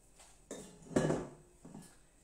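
Large spoon clinking against dishes while serving a sweet, tangy butternut velouté with coconut-milk whipped cream: three light, close clatters, the middle one loudest, in a quiet kitchen.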